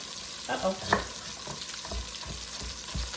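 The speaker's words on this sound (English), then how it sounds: "Now we want to flip over the steak." Swiss steak sizzles quietly in a pan as it is flipped, a low crackle under a few scrapes and bumps of the utensil against the pan, close and fairly faint.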